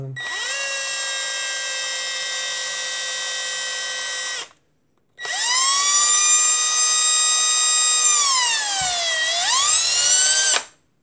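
Power drill with a metal bit boring through steel on a toy car being restored, a loud steady whine in two bursts with a short pause between, the pitch sagging briefly near the end of the second run.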